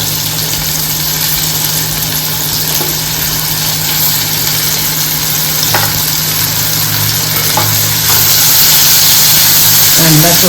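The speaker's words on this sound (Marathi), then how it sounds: "ह्या अशा खमंग फोडणीवर कांदा थोडासा मिडियमच कांदा चिरून घालायचा" Chopped onion hits hot spiced oil in a tempering, setting off a steady loud sizzle and frying hiss that swells near the end, with a faint stir or clink or two underneath.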